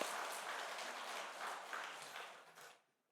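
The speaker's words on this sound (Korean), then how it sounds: "영광의 박수 올려드립니다." Applause fills a church sanctuary during a Sunday worship service, a steady broad patter of many hands that holds for a few seconds and then fades out.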